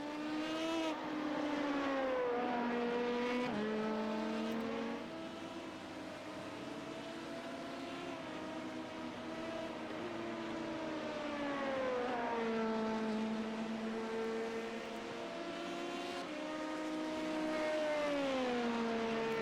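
Sports and race cars roar past on the Belgian circuit during an international sports car championship, engines droning and shifting pitch as they accelerate and downshift, a continuous loud mechanical whine with no talking.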